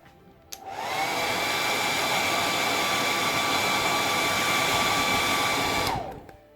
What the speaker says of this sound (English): I'm just going to give it a quick blast with my hairdryer.